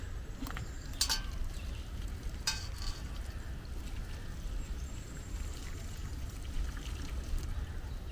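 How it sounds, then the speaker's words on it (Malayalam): Hot water poured into a pot on a stove in a home kitchen, a steady rushing, bubbling wash that runs continuously and close, with a few faint clinks along the way. "കുറേ കൂടെ വെള്ളം ഒഴിക്കാം."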